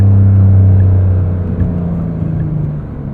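A 2025 Porsche 911 GTS hybrid of the 992.2 generation accelerates hard, its engine a loud, steady rumble and whir that holds strong throughout and eases slightly toward the end, with no talking.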